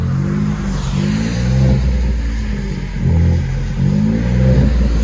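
From a distance, a Ford F-150 PowerBoost hybrid with a Black Widow exhaust revs repeatedly, each burst of throttle swelling and fading in a moderately loud, rhythmic pattern with no one speaking.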